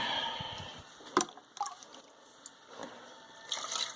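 A dash of water poured into a pot of morel mushroom sawdust slurry mixed with flour makes soft, intermittent splashes and drips. It is faint and close, with no talking.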